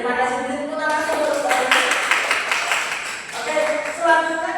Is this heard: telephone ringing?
no